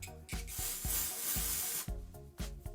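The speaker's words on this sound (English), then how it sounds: "So I'm just going to spray that at the root." A long, close hiss of rose water hair spray from a bottle aimed at the roots, with soft pumping clicks before and after the sustained burst.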